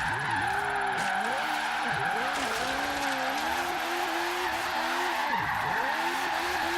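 A BMW i8 in Forza Horizon 3 drives hard through corners, its engine note rising and falling between repeated tire squeals and skids across several seconds, loud and continuous.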